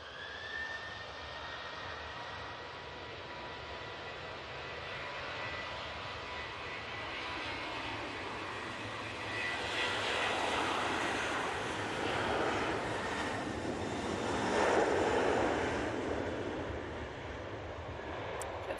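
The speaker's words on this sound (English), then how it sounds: "Two now on the roll using the 737-800." Boeing 737-800 on its take-off roll at Manchester Airport, a broad jet engine roar heard from a distance that swells gradually and peaks, with a steady whine running underneath and no voices.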